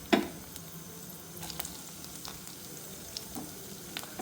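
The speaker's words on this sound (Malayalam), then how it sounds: "നമുക്കൊരു ചീനച്ചട്ടിയിലേക്ക് കറിവേപ്പിലയും കുറച്ച് വെളുത്തുള്ളിയും പിന്നെ തേങ്ങ ചിരകിയതും കൂടി ഇട്ടിട്ട് നന്നായിട്ട് വറുത്തെടുക്കാം." Grated coconut, curry leaves and garlic fry in a pan, giving a faint, steady sizzle with a few light stirring scrapes and taps. No voices are heard.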